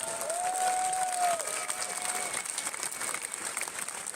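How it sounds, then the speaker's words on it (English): A crowd of protesters at a rally claps in sustained applause with some cheering, a broad steady roar with a voice rising briefly over it at the start. "Just give yourself a massive round of applause just for being here."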